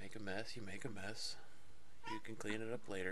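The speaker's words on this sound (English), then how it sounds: "that's my cat arguing with me because he wants to get in my lap" A person talks calmly while a cat meows insistently several times, the cries overlapping and alternating with the speech close by.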